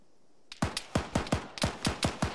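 Rapid AK rifle fire from behind a squad during a field training exercise: roughly a dozen sharp, loud cracks in quick, slightly irregular succession, with no voices.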